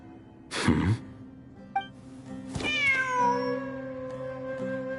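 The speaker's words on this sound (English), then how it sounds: "Wait, there it is!" A cat in the video game Genshin Impact meows clearly two or three times, close and fairly loud, with a drawn-out final call over a quiet steady background hum.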